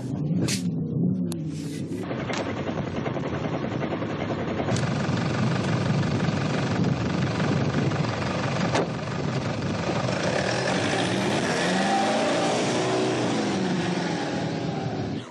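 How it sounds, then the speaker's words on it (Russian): Rally vehicle engines roar in the Mauritanian desert during the Africa Eco Race, a continuous loud mechanical drone that holds steady throughout, with a few sharp knocks at the start. "Уже слышно, как ревут моторы"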